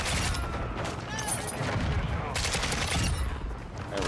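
AK-74u gunfire in the Call of Duty MW2 video game, rapid automatic bursts crackling loud and close in two long volleys with a short gap, over steady game noise.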